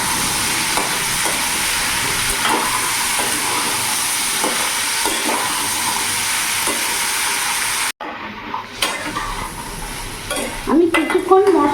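Pumpkin cooked with salt, turmeric and chilli powder in a pan, stirred with a steady sizzle and the scrape of a spoon. Frying hiss runs throughout, and clatter and handling noises follow after a brief cut.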